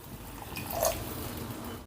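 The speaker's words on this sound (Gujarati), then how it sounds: "તો 1 કપ પાણી આપણે ઉમેરી દઈશું." A cup of water is poured into a cooking pot while a spicy snack gravy is being made at home: a short, close liquid splash and gurgle over about a second, fairly soft, with no voices.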